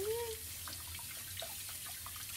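Tap water runs steadily into a sink while hands are rinsed, a soft continuous splashing rush heard close by with no speech over it.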